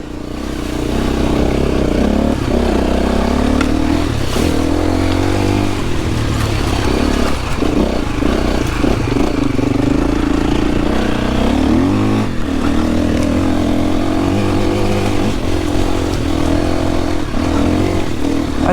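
A KTM 350 enduro motorcycle works its way along a hard enduro trail, its engine droning loud and continuous with repeated revs and throttle blips, joined by rattling clatter from the rough ground.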